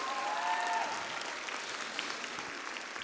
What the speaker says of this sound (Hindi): तो ताली बजाएं जोर से उस्मान के लिए.